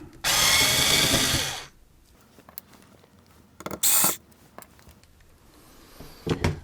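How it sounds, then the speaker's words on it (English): Screws being driven out of an Apple IIc computer during a teardown with a power screwdriver: a loud, close whirring burst over a second long, then small clicks and handling, a second shorter whir, and more faint clatter. "I'll just take out all the screws I see until the motherboard comes out"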